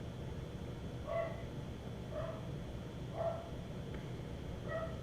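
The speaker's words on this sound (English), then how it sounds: "My dog says hello." A dog gives four short, spaced barks, each a single sharp yap at moderate distance, over a low background hum.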